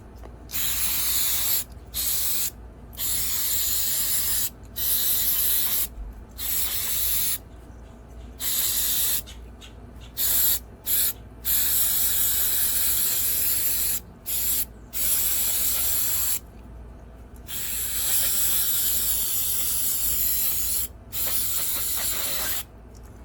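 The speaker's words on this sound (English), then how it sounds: "There we go. Good old spray down." An aerosol can spraying down a Craftsman lawnmower part during a repair, close and loud, in a long run of hissing bursts of uneven length split by brief pauses.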